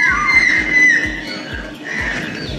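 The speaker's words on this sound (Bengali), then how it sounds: "শুনতে পাচ্ছ কেমন কোকিল ডাকছে?" An Asian koel calls from somewhere around a rooftop on a spring morning, its clear whistled notes repeating at moderate distance over soft, regular low thumps.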